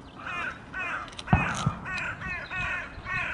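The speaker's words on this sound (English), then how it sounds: "Bird." A crow caws repeatedly in a steady series of hoarse calls at fairly close range, with a couple of sharp knocks partway through.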